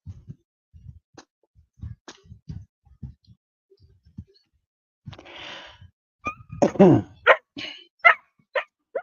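Dogs barking, a series of close, loud barks in a rapid cluster toward the end, after stretches of quiet talking.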